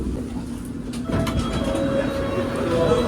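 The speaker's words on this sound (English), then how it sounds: "So the train terminated early at Baker Street" A London Underground train stands at a platform, its steady rumble and hum rising at close range, with faint tonal whines and clatter over the continuous rolling drone.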